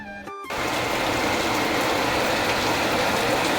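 Rain falls steadily in a rural Bengali home courtyard, a dense continuous hiss that starts abruptly after a brief mechanical rattle and continues close and even.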